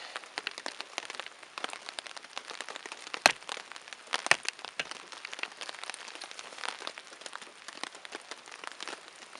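Rain patters and taps on a nearby surface in Algonquin Park, soft and irregular, with a few sharper drops standing out and no one talking.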